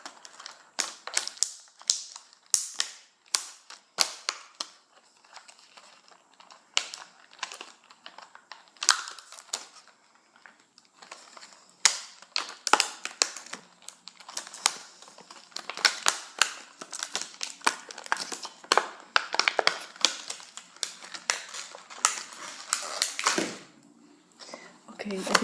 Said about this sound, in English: I'm actually going to be able to like rip open the packaging right now.